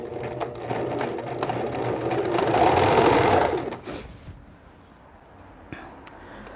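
A sewing machine runs a zigzag stitch along an apron hem, a loud, rapid mechanical whir that builds steadily, then stops, followed by quieter handling sounds.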